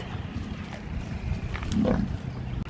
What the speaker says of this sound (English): They are pigs.